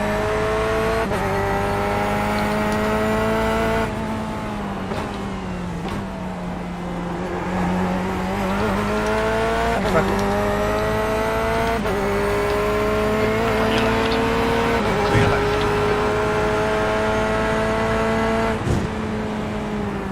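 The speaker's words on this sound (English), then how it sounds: "There's a faster class car approaching." A race car in iRacing at the Sebring endurance event drones steadily with its engine pitch rising and falling through gear changes as a faster class car approaches and passes, loud and sustained.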